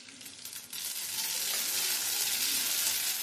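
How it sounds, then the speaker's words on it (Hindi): Mustard seeds crackle and sizzle in hot oil in a pan, a dense steady frying hiss that grows louder after the first moment and holds close and continuous, with no voices. "तेल के गर्म होने पर इसमें डालेंगे हम 1 चम्मच राई।"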